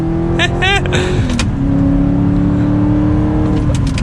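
An Audi R8 engine hums loudly and steadily, its pitch shifting as it accelerates through a turn, with a voice briefly talking over it early on.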